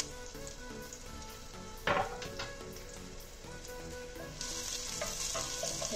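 Garlic sautéing in three tablespoons of extra virgin olive oil over medium heat, giving a busy close crackling sizzle with a sharp stir or scrape partway through, and the hiss grows brighter toward the end.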